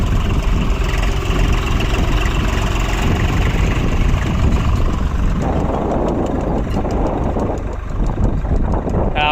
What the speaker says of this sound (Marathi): आपला ट्रॅक्टर आहे स्वराज आणि आपल्या वावरात चालू आहे पेरणं।